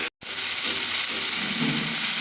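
Spices and tomato frying in a pan with oil, giving a loud, close, continuous sizzle and hiss after a brief cut at the very start.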